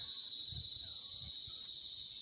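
Crickets chirp at night in cold air, a steady high continuous trill that runs through the whole stretch, fairly faint, with soft low rumbles underneath.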